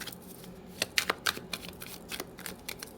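Tarot cards are shuffled by hand in quick, crisp riffling bursts, several sharp flicks close to the ear against a quiet room.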